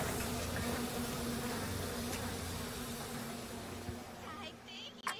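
Steady, dense swarm buzz of bees from the video game Bioshock, continuous and fairly loud throughout, with no voices, easing slightly toward the end.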